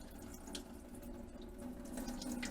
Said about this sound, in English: Just run it through cold water.